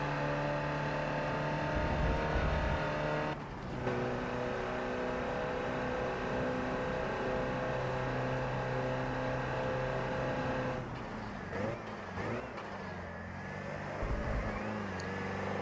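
Race car engine droning steadily at high revs through a lap, with a brief dip and gear change near the four-second mark and another shift with rising pitch around eleven seconds.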